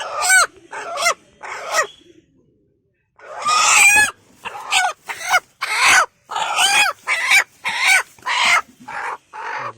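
A hen sitting on her eggs gives a run of loud, close, repeated calls in short bursts, with a brief pause early on before the calls resume steadily.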